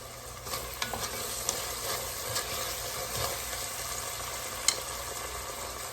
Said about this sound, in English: Next thing I'm going to put 5 to 6 cloves of garlic.